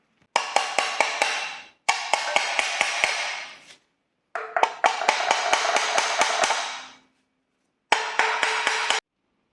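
Sharp metallic hammer strikes on a metal plate held against mounting holes, in four quick bursts, each a rapid series of ringing blows with brief pauses between, close and loud.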